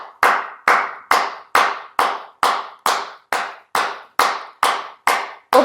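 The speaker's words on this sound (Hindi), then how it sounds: "सबसे पहले इस पोजीशन हम ताली बजाएंगे, एकदम जोर जोर से आपको तालियां बजानी है" Loud, crisp hand claps from a clapping exercise, about a dozen sharp single claps spaced evenly at roughly two per second, close up and isolated with silence between each.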